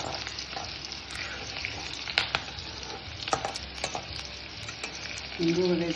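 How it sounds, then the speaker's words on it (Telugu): Mustard seeds, fenugreek, chana dal and urad dal with a pinch of asafoetida sizzle and crackle in hot oil as a tempering for raw jackfruit curry, a steady close fry with sharp pops scattered throughout. "అలాగే ఎర్రగా వేగాలి పోపు."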